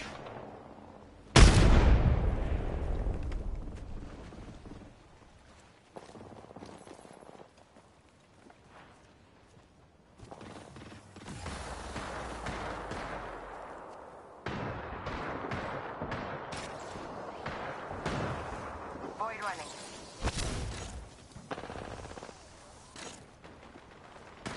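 A frag grenade explodes with a sudden loud blast in the battle royale game Apex Legends, followed by bursts of gunfire, footsteps and another boom later on, with no talk.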